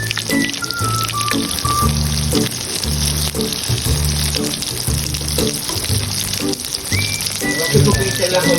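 Breaded banana blossom fries in a pan, giving a loud, constant crackling sizzle with faint clinks and scraping over a low hum, steady throughout.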